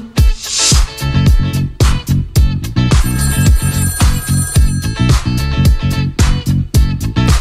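A ringing telephone bell plays as a sound effect inside a dance track, repeating through the pounding beat and bassline at full mix level.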